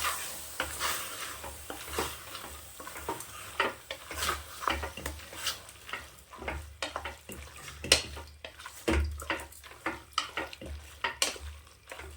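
Spices and ginger garlic paste are mixed for a tripe gravy, with a spoon scraping and knocking against the pot in quick, uneven strokes over a faint sizzle.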